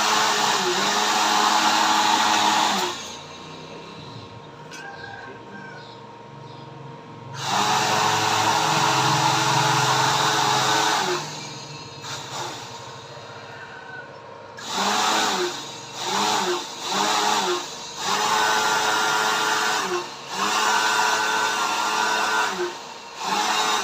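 A homemade blower built from a salvaged used dynamo runs in bursts: a steady, loud, high whirring motor hum that switches on and off several times, with short gaps and a quicker series of on-off pulses near the end.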